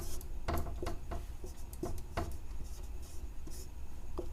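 Chalk or marker strokes scraping across a board during a Hindi-language class 10 maths lesson, a steady run of short scratchy strokes at close range with no talk over them.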